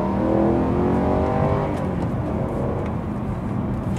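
BMW M3 engine revving loudly as the car pulls away, a steady close, throaty roar with rising pitch that holds for about four seconds with no talking.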